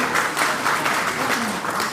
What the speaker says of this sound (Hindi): एक बार जोरदार तालियों के साथ हमारे युवा साथी का स्वागत है।